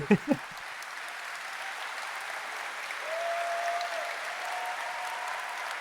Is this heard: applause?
yes